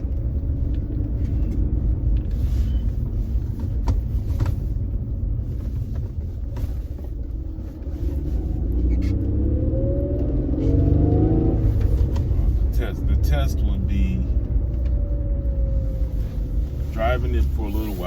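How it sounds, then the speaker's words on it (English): A used, high-mileage car drives along with its engine running as a steady low rumble, with wind buffeting the microphone throughout and a brief rising engine tone near the middle. "Runs pretty well for a used car."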